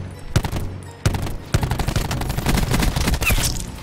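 Gunfire rings out in a video game shooter in sharp bursts: several single loud cracks, then rapid fire that runs almost continuously to the end, close and dominant.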